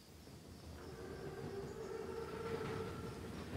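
A huge armored Panzerzug train rumbles along in a Second World War setting, a steady low roll that swells gradually with a faint drawn-out whine above it.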